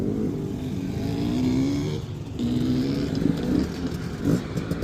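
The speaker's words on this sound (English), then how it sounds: "Saturday morning dirt bikes." Dirt bike engines, one a 350, hum steadily at close range on a Saturday morning ride, with the pitch rising in a few short revving swells.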